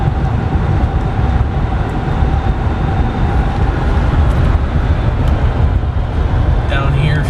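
A 2012 GMC Savana Explorer Limited SE conversion van, sold as repairable salvage, cruising down the road with a steady, loud low road and engine rumble filling the cabin.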